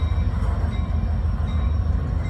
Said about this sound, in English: Train is heading to Sangerfield, 23 miles south of Utica.